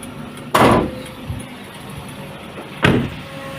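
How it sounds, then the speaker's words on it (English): Hood of a 2017 Daihatsu Gran Max S400 1.5 pickup being opened: two sharp, loud metallic clunks about two seconds apart, the release latch and then the hood, with a faint knock between them and no talk. "So to open the hood"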